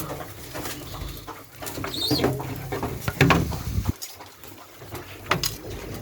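Pet pigeons cooing while being fed, soft intermittent coos and rustling mixed with faint background noise, fairly quiet and close.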